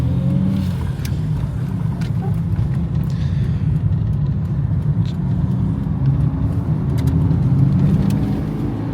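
Steady low engine drone and road rumble fill the cabin of a Ford Fiesta Mk2 as it drives smoothly along, holding an even loudness throughout without speech.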